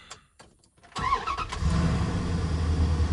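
A 2nd gen Dodge Ram 1500 engine turns over after a few faint knocks and catches, then runs at a steady low idle close by, without talk.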